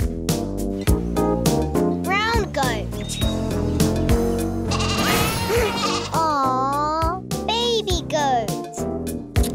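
Goats bleat in quick succession, including white, brown, bearded and floppy-eared goats, with loud wavering cries over a busy musical backing and a voice.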